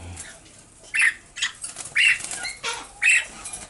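Pet princess parrots flap their wings in quick bursts while climbing, making three distinct fluttering whirs about a second apart, close and fairly loud.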